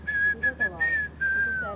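Someone whistles a short, bright tune in several held phrases with brief breaks between them, close and clear, with no talking.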